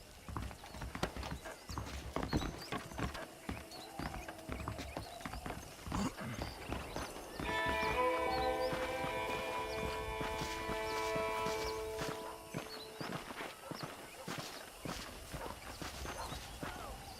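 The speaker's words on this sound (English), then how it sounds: "The horses are saddled up over here." Horse hooves clip-clopping at a ranch in the video game Red Dead Redemption, a steady run of footfalls with a whinny, joined midway by a sustained musical tone.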